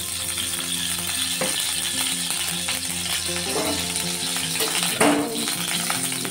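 Bitter gourd frying in a pan, a loud continuous close sizzle with occasional clinks and scrapes of a utensil, no talking.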